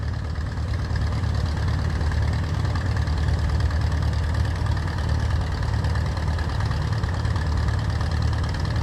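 A 5,000-pound tractor engine idles steadily on a cold morning, a continuous low rumble with a faint knocking pulse that stays loud and unchanging throughout, with no voices.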